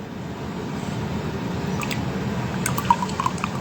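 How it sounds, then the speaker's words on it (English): Spicy masala tea is poured from a vessel, a soft liquid trickle building into a few close drips and splashes near the end, quiet and alone. "now let's pour off the spicy masala"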